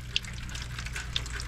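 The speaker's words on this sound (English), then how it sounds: "this is from the shower. There's water just coming down," Water leaking from a shower drips and trickles down through a ceiling, a steady wet patter with two sharper drips standing out over a low hum.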